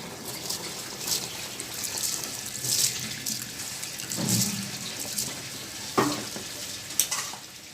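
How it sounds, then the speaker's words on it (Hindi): A bubbling, hissing rush of boiling water with splashes and scraping stirs as rice for biryani goes into the pot, punctuated by a few metallic clinks. "पानी अब उबल गया, हम चावल डालेंगे इसमें।"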